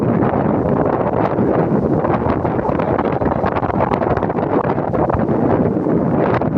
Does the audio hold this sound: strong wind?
yes